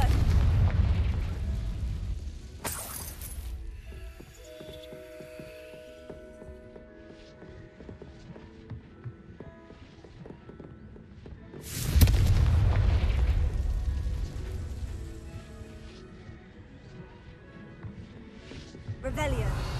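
Two booming Confringo fire-spell blasts burst from the Hogwarts Legacy video game, each a loud sudden impact that rolls off into a long rumble, with quieter game sounds between them.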